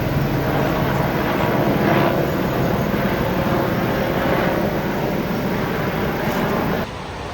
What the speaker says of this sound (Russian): А вот он, вертолет летит.